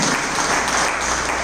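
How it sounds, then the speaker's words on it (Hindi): A satsang audience at a Chaturmas gathering in Vadodara bursts into steady, dense applause from many hands, filling the hall evenly and loudly for the whole stretch without any speech over it. "अच्छी लगी हो तो अच्छी ताली बजा दो।"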